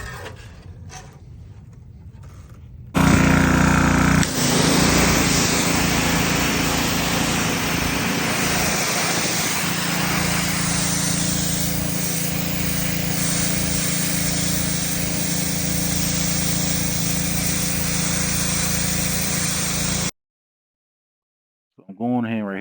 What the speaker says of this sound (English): I'm using a stripper tool that I got from Harbor Freight. It's a 40 grit.